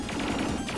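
Rapid video game gunfire rattles off in a quick, dense burst of closely spaced shots, loud and close, lasting under a second without talk.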